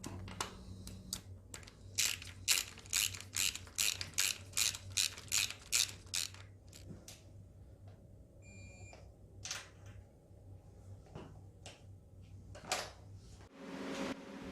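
Intake manifold nuts on an 80s Honda CR-X are tightened with a ratchet, giving close, rhythmic clicking strokes in a fast run, then slower scattered clicks with brief pauses, and no voices.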